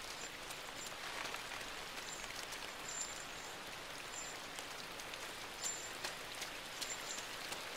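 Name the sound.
rain in the video game Inside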